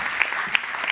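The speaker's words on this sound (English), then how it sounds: "Big round of applause." An audience at a circular economy conference session gives a short burst of applause, a dense steady clapping with no talking.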